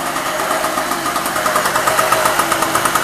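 A smoky old generator engine runs steadily just after a cold start, its loud, even idle chugging with a faint rhythmic knock pulsing throughout, close by and without any talk.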